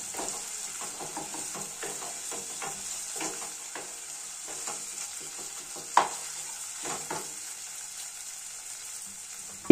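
Fish curry masala for doi katla sizzles steadily in a pan with ground coriander and cumin paste, a constant hiss broken by scattered scraping stir strokes and one sharper clink midway.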